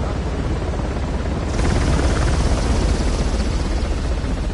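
A helicopter from the video game Uncharted thunders loudly and steadily, its rotor thrum continuous and close, with no voices over it.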